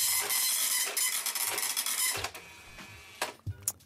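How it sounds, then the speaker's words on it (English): A vintage line printer chatters in dense, rapid mechanical bursts for about two seconds, then slows into scattered clicks and a few sharp knocks, close and loud with no voices. "This is what a printer used to sound like."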